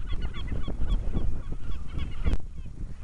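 Nesting seagulls at a gull sanctuary on Flat Holm island, calling close by in repeated harsh honking cries that overlap in a busy, loud chorus.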